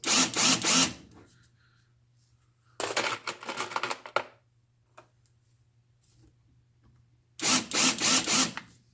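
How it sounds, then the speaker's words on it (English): A power drill on speed 2 with a reamer bit whirs in three short bursts, reaming .223 brass primer pockets, separated by quiet gaps, a faint hum lingering between the runs. "I use a reamer tool on a drill on speed 2."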